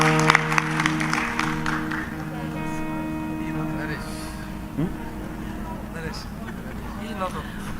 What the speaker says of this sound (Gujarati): આ બાળેટાઓને બેને વધાવો તાળીઓથી.